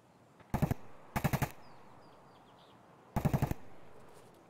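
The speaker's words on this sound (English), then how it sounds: "Is that you shooting?" Gunfire in the video game Escape from Tarkov: three short bursts of rapid automatic shots, evenly spaced and moderately loud, with quiet ambience between them.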